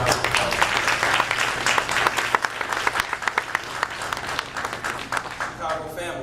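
Audience applause fills a public forum on the need for a south suburban trauma center, a dense, steady round of clapping from a sizable crowd with sharper individual claps standing out and a low hum beneath.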